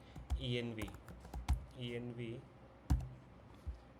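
A computer keyboard clatters in short bursts of keystrokes as a file path is typed, the clicks sitting under a voice talking through the steps.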